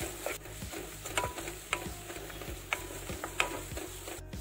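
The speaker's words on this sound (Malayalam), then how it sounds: "എന്നിട്ട് ഇത് നല്ല രീതിയിൽ ഒന്ന് മിക്സ് ചെയ്ത് വറുത്തെടുക്കാം." Grated coconut frying with curry leaves in a pan for Kerala-style kappa biriyani, a soft steady sizzle broken by repeated scraping taps of a spoon stirring, close and fairly quiet, no talk.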